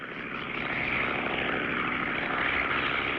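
An animated crop duster airplane flies by with a steady propeller-engine drone that swells slightly and holds loud and close, with no talking.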